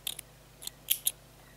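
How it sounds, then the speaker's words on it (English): Rusty scissors snipping crochet yarn, several quick, crisp metallic clicks close up, some in rapid pairs, against a quiet background. "I'm going to cut our yarn."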